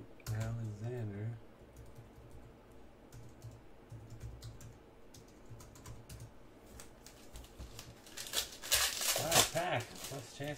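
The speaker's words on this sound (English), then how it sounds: "Alexander, we're typing Alexander." Computer keyboard typing as a name is entered during a trading card pack opening, quick clicks scattered under steady talk, with a louder burst of clatter near the end.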